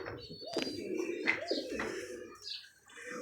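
Pigeons coo in soft, repeated low throaty rolls from a kept pair with young, close by, with a few faint chirps between the coos and no talking.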